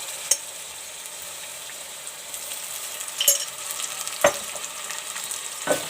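Garlic sizzles with onions in a pan while cooking mutton liver: a steady, fairly quiet frying hiss runs throughout, broken by a few sharp clicks and scrapes from stirring.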